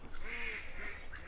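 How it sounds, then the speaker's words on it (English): A duck quacks in a short, clear run of nasal calls, fairly close and loud against a steady background hiss, with no voices. "The duck's having a laugh."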